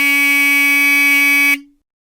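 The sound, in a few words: electromechanical buzzer tone from E2S Hootronic sounder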